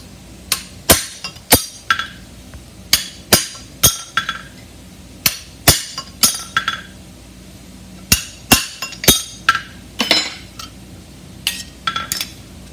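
A pritchel hammered through a horseshoe on an anvil, loud ringing metallic strikes in quick clusters of two to four blows with short pauses, close and without talk.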